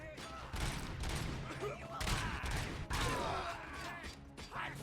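Gunfire from the video game RoboCop: Rogue City comes as heavy, loud bursts repeated several times over a few seconds, with mechanical clatter between shots and a voice speaking over the action.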